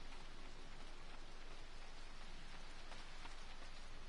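Steady, dense rain pours throughout a rainy stretch of the video game Final Fantasy XIV, a continuous even hiss with no pauses.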